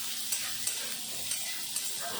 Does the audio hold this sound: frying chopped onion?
yes